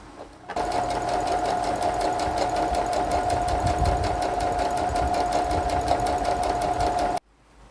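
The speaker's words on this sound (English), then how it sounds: "So I'm going to sew in between the edge of my fabric and the 1/2 inch line." A sewing machine stay stitches near a fabric edge, running continuously at an even, rapid rhythm for about seven seconds, close and clear, with no talking.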